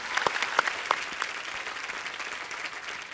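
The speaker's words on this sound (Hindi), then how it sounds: "पाजी इनके लिए पहले तो जोरदार तालियां हो जाए।" Studio audience on a Hindi comedy talk show claps loudly for two guests, a dense, continuous burst of applause with a few sharp individual claps up front, steady and full throughout with no talking over it.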